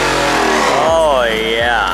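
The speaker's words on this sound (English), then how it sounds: "Holy shit, he banged on limiter right there. Yeah, American muscle." An American muscle car at a cars and coffee meet, its engine revving hard and bouncing off the rev limiter in sharp rising and falling sweeps, loud and close, with someone talking over it.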